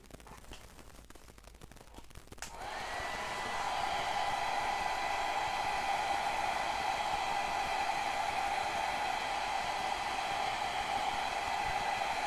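A hair dryer switches on after a couple of seconds of quiet and blows steadily for the rest of the clip, a loud continuous whooshing hum with a steady whine, used to dry a piece of artwork.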